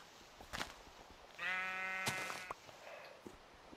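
A single Minecraft sheep bleats once in the middle, a clear, wavering call lasting about a second, with a few soft clicks and thumps before and after.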